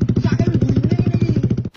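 A motorcycle exhaust idling close and loud, a fast, even train of deep throbbing pulses that ends abruptly.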